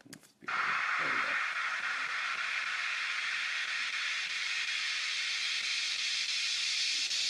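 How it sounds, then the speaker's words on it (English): Synthesized white noise riser panned dead center: a steady, broad hiss that swells in and holds at an even level, after a short quiet sound at the start. "So this is just a white noise riser."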